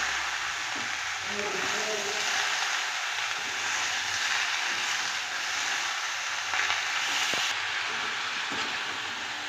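Bottle gourd with turmeric and chili powder sizzles in a pan as a continuous, fairly loud hiss with a few faint knocks.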